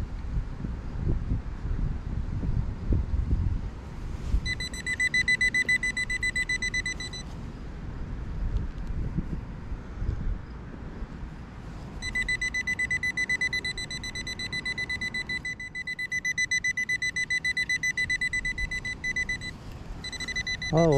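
Metal detector beeping in a back yard, two long steady tonal beeps repeating in spells over wind and low rumble, fairly close and clear.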